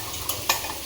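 Lunch cooking in a pan at home, a low steady sizzle with two brief stirring scrapes against the pan, fairly quiet and close with no talking.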